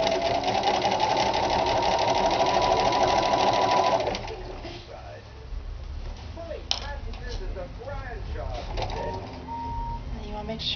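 A sewing machine stitching fabric for a kapp-style Christian head covering, whirring steadily and close for about four seconds before stopping, followed by a person talking.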